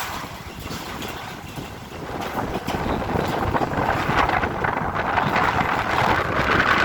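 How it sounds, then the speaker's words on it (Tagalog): Strong wind buffets the microphone with a continuous rumbling roar that grows louder over several seconds. "Lakas ng hangin no?"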